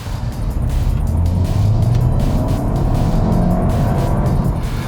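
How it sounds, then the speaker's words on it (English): A 2021 Audi A5 Sportback 40 TFSI engine revs high and sounds slightly breathless, a loud continuous drone with road and tyre rumble heard from inside the car, with no talking. "Engine sounds a little bit breathless there at those higher revs"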